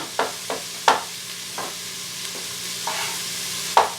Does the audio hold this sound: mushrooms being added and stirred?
yes